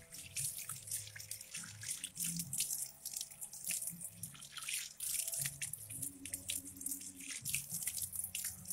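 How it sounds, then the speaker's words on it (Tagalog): Water splashing at a sink during face washing, with a running tap and repeated irregular splashes and drips close by, alone without talk. "So, maghihilamos muna tayo, syempre."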